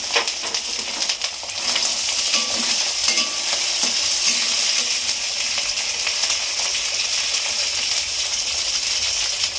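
Green peas tipped into a frying pan with ginger paste, for a fish-head cabbage dish, hit the hot oil with a loud rising sizzle that settles into a steady hiss, with a few metallic clinks and no talk.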